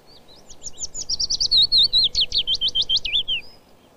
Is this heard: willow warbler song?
yes